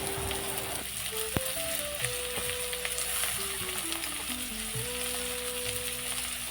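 Potatoes and tomato frying in a pan with small fish: steady, close hissing sizzle throughout, with a sharp clink early on and a faint tonal hum in the background.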